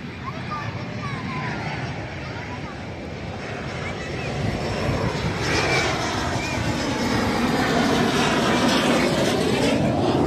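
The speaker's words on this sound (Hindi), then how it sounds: "वरती सारखं विमानाची आवाजाही चालूच आहे।" Airplane flying overhead beneath dark, heavily clouded skies above a garden, a broad droning roar that swells steadily louder and fuller as it passes.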